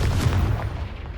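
A Confringo fire spell bursts in Hogwarts Legacy, a short muffled boom with a heavy low rumble that fades over about a second.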